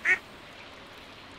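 A single short, bright duck quack in the farming game Stardew Valley, heard alone at the start before quiet background.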